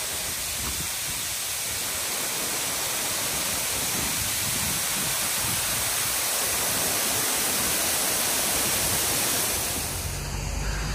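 An artificial waterfall pours down a man-made hill, a steady, dense broadband rush of falling water that fills the whole scene, loud and unbroken, with no voices.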